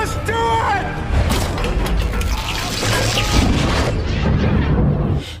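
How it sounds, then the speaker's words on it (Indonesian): A large reactor exploding in a film, heard as a sustained roaring blast with booming rumble and crashing debris, loud and dense throughout, with brief voices at the start. "Tiba-tiba reaktor besar meledakkan energi yang begitu besar hingga ke langit."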